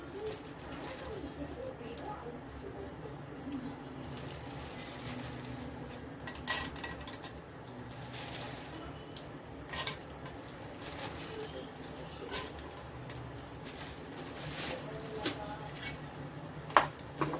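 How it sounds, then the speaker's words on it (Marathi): Edible gum is roasted in ghee in a pan, giving a soft continuous sizzle with scattered clinks of a utensil against the pan and occasional sharper knocks. Someone speaks over it now and then. "आता हे आपल्याला तुपातच करायचं आहे आणि आपले मखाने भाजून घ्यायचे त्याच्यामध्ये पहिला आपण डिंक भाजून घेऊया"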